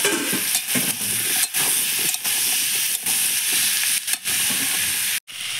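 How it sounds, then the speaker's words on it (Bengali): Mixed vegetables frying in a kadai with ground spices, chilli powder and turmeric, a loud steady sizzle and hiss broken by repeated stirring scrapes and a few short pauses. "সমস্ত সবজিগুলো আমি কড়াই দিয়ে দিয়েছি, এবার হালকা করে একটু ভেজে নেব।"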